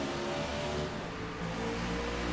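A race car in a Daytona racing game roars and accelerates hard off a green-flag restart, a loud continuous engine drone with a brief dip as it shifts gears, no voices.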